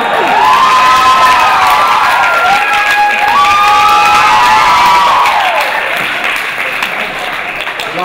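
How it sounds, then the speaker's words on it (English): A panel audience at ROFLcon 2012 cheers, whoops and applauds loudly, a dense crowd roar with shouts rising above it, gradually easing toward the end. "Lots of cheering is being had."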